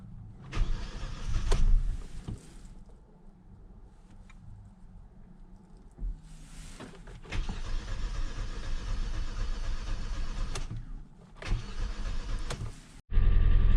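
A car engine cranks in short bursts, sputters and dies, then turns over and catches into a steady running rumble.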